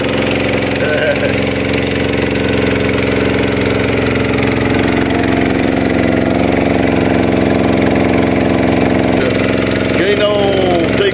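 Small boat engine droning loudly and steadily on an Amazon river trip, a continuous mechanical rumble with knocking texture that fills the whole clip, with faint voices partly under it.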